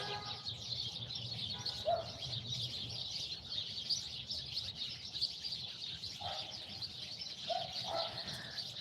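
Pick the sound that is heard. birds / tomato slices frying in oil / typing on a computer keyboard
birds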